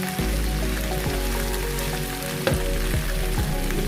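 Shrimp crackle and hiss in a small hot pan while being stir-fried, with a dense, steady sizzle and occasional scraping knocks of a utensil nearby.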